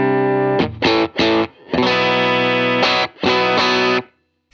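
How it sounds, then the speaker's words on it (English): Boosted electric guitar rhythm tone played through a Walrus Audio ACS1 amp simulator, with driven, distorted chords strummed in several short bursts and a longer sustained stretch before ringing out and stopping. "And there's my boost tone, so I've got my rhythm sound."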